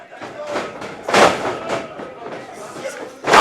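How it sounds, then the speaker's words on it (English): A wrestler lands a shotgun drop kick during a pro wrestling match. Several heavy thuds and body impacts on the ring sound over crowd noise, and a loud final slam comes at the end. "The shotgun drop kick."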